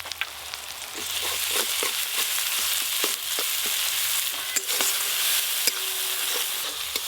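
Mustard paste goes into hot oil with cumin, dried red chilli paste and turmeric, making a loud, constant sizzle and frying hiss with occasional clicks and scrapes from a spoon.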